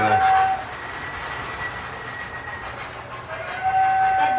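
A small O scale Lionel model train hums and rattles steadily along Fastrack track, with a thin high whistle-like tone at the start and end.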